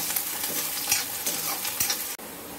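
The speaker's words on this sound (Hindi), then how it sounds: "प्याज, गोल्डन ब्राउन होने तक हम इसको पकाएंगे।" Onions frying for kadhai paneer sizzle steadily with a dense, crackling hiss, broken by occasional scraping stir strokes close by, then a brief sharp drop near the end.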